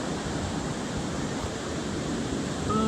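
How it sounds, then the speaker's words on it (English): Large ocean waves of about 18 feet crashing against the bluff at Pismo make a steady, dense, close roar of surf and spray, with no voices. "Crashing on the bluff."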